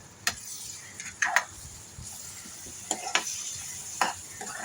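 Amaranth greens sauté with turmeric and red chilli masala under a quiet sizzle, with scattered sharp ticks and scrapes of a spoon against the pan.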